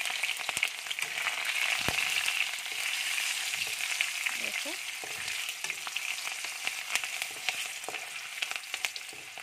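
Onions frying in a very hot wok (kadai) for a mixed masala vegetable dish: a steady, bright sizzle and crackle throughout, with a few sharp pops and the odd scrape of stirring, no voices.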